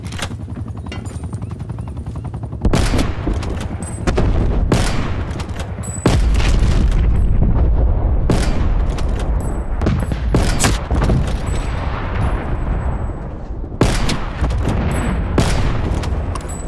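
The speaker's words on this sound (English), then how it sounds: "Artillery targeting detected. Net call. Incoming artillery." Incoming artillery strike in the video game Call of Duty Black Ops Cold War: a barrage of loud, booming shell impacts and explosions arriving one after another over a roar of battle noise, with no talk.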